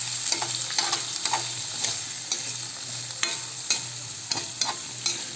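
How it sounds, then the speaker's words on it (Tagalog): Squash is stirred with onion and garlic in hot oil in a pan, giving a continuous sizzle broken by repeated scraping strokes of a utensil at an irregular pace, close and alone without talk. "Ihalo-halo lang kasama yung sibuyas at bawang na may mantika."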